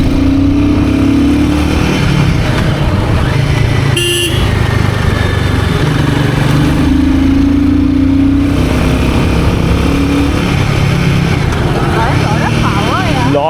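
A Royal Enfield Guerrilla 450 carrying two riders on road tires pulls hard in third gear with a loud, continuous engine roar and rising, falling pitch under heavy wind noise, while a rider talks over it.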